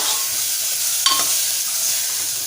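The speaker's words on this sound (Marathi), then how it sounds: "आता आपण झाकण काढून घेऊया एकदा फिरवून घेऊया" Sprouted chana masala is stirred in a sizzling pan, a close steady fry hiss with a single spatula scrape and clink partway through.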